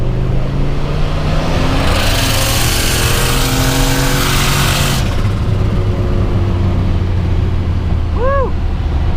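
A boosted car rolls on in third gear and accelerates hard, a loud, rising exhaust roar with a bright rush of turbo hiss that cuts off midway, then the engine keeps droning on.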